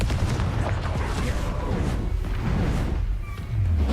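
In Hogwarts Legacy, a Confringo spell bursts into a loud fiery explosion, followed by deep booming rumble and crackle that fill the whole stretch, with a brief lighter whoosh near the end.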